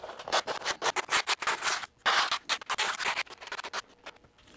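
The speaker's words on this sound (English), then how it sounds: "I'm going to use 150 grit sandpaper and just go over it quick" Hand sanding with 150 grit sandpaper over a dried painted road surface on a model layout, a rapid series of short scratchy rubbing strokes, close and fairly quiet, with one brief pause midway.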